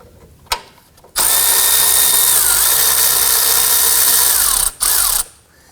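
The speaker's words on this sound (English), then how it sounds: "I'm going to go ahead and remove the lower bolt right here." A power ratchet backs out the lower bolt on the windshield washer reservoir of a 2018-2024 Toyota Camry. It gives two short bursts, then a loud, steady motor whine for about four seconds, and one more brief burst after that.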